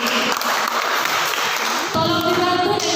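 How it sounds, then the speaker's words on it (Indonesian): A church prayer-fellowship congregation claps hands together in a steady, dense wash of applause that fills the whole moment, with a sustained musical tone entering partway through. "Oke, kita tepuk tangan untuk kita semua dulu."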